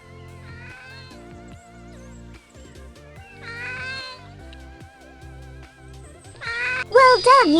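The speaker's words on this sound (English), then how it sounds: "Cat." A cartoon cat meows in a farm animals seek-and-find app game, a short bright meow near the end over cheerful looping background music and chimes.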